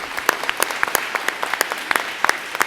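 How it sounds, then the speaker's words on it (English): At a school board meeting, a small group claps for National Merit Scholars with a thin scattering of distinct, uneven hand claps, close and crisp rather than a full roar. "a round of applause for all of them."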